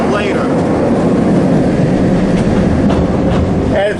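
An amusement park train ride at Cedar Point rumbles along in a loud, steady roll of rail and carriage noise, close and continuous, with faint rhythmic clacks and occasional squeals over it.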